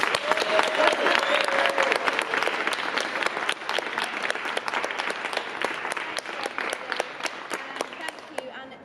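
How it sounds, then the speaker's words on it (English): An audience at a poetry reading in an art gallery gives a steady round of applause, dense and fairly loud throughout, tapering slightly near the end, with some voices mixed in. "to finish, a round of applause"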